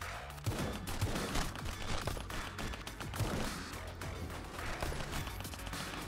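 AK rifle gunfire in the video game RedEX, a dense, continuous rattle of rapid shots with heavy low-end thump throughout, fairly loud and close.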